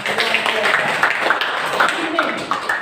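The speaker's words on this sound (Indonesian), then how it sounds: "Baik, tepuk tangan." An audience in a classroom lesson claps, with quick irregular hand claps running under a person speaking throughout.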